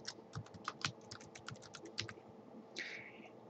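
Rapid typing on a computer keyboard, a steady run of close, crisp key clicks with a few louder strokes and a brief rustle near the end.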